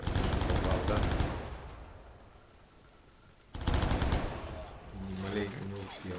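Bursts of rapid automatic gunfire in the S.T.A.L.K.E.R. video game, two loud rattling volleys separated by a quieter pause, with a voice talking over the later part.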